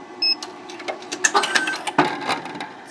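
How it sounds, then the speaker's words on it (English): An embroidery machine runs a trim and moves its frame, giving a short sequence of close, mechanical whirs, clicks and a brief electronic beep, fairly quiet with no talk. "This one is to trim, and it will essentially move the machine."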